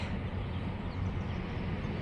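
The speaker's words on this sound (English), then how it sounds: "Train." A steady, broadband rumble and roar of a train going by, constant and fairly loud throughout with no voices.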